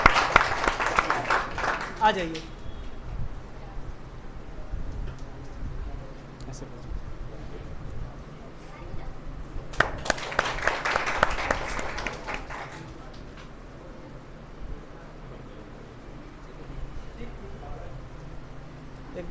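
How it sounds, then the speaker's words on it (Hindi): An audience at a physics quiz competition claps for a child in two loud rounds of applause, one at the start and another midway, with a voice speaking and quieter room sounds between. "जोरदार ताली बजाया जाए बच्चे का।"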